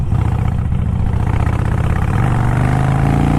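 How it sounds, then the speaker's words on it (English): A 2018 Harley-Davidson Sportster 1200 Iron motorcycle's V-twin engine roars loudly and close while being ridden, a deep, throbbing, continuous rumble that climbs in pitch as it is opened up, with no talk. "Listen to that engine roar."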